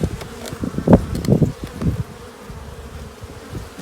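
Honeybees buzzing close by at an open hive, a busy droning hum with soft handling noises and brief louder swells, fading a little toward the end.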